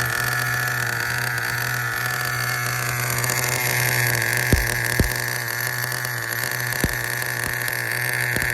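An HPI Super Nitro RS4 RC car with a nitro engine idles during break-in, giving a steady, droning buzz with a few sharp knocks partway through.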